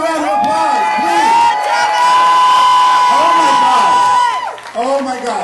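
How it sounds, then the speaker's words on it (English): An audience cheers, whoops and claps loudly and continuously at a live event, a dense crowd roar with a sustained shout on top that fades near the end. "Give Tommy another round of applause, please!"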